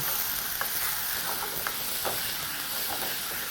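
Onions and tomatoes sizzling in a pan for a carrot coconut stew, a steady soft frying hiss with faint scattered clicks and scrapes of stirring throughout.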